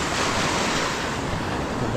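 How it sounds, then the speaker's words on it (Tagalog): Sea waves wash onto the shore in a continuous, close, roaring surf, with some wind buffeting the microphone throughout. "Right, nandito tayo sa dagat ngayon."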